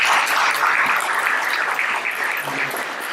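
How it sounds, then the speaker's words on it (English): Steady crowd applause fills the room for a committee standing at a gathering, a dense wash of many hands clapping at an even level with no talk over it. "Let's give them a round of applause."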